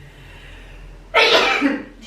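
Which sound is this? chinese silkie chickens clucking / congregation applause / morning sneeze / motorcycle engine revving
morning sneeze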